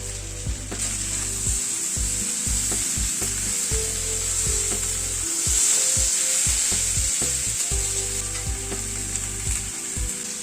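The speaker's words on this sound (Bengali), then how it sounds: "আরো প্রায় মিনিট 2-3 মতো সবজিটাকে একটু ভাজা ভাজা মতো করে নিলাম।" Vegetables with tomato sizzle steadily in a hot pan, a loud continuous hiss with occasional scraping of a spatula stirring them. No voices.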